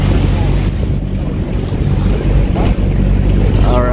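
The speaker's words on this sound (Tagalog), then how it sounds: "Maatras na yung bangka, mga kaibigan" A boat engine reverses on the open sea near El Nido, Palawan, its low droning hum churning loudly and close under heavy wind buffeting the microphone and waves around the hull.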